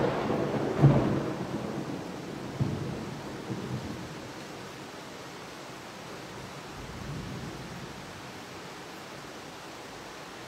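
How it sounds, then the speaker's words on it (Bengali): Thunder rumbles during a thunderstorm with rain in the background: a strong low boom near the start, then smaller rolling rumbles that fade into a steady wash of rain, with no one speaking. "অনেক জোরে একটা বিদ্যুৎ চমকেছে"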